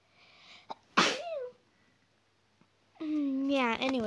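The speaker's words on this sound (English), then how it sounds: "One second, guys, I have to sneeze." One person sneezes once, loud and close, after a short inhale, and a few seconds later a voice follows.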